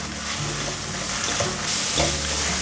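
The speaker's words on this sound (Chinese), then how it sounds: "快速的翻炒，" Carrots and fried tofu skin sizzle loudly in an oiled pan while being stir-fried fast, a steady close hiss with scraping toss movements and no voices.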